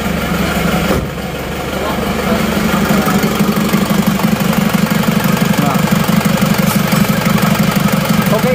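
An Isuzu Panther diesel engine idles around 700 rpm after nozzle work, a loud, close, steady rhythmic knocking clatter, with someone speaking briefly over it.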